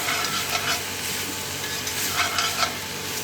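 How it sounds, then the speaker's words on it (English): Onions brown and caramelize in a pan for beef carbonnade, a steady close sizzle with occasional soft stirring scrapes and no talking. "We're gonna let that brown up, get it nice and caramelized, almost like you're making an onion soup"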